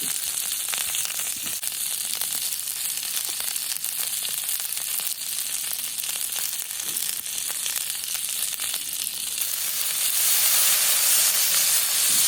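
A small amount of butter sizzles in a very hot pan, a loud, continuous frying hiss that grows a little stronger toward the end.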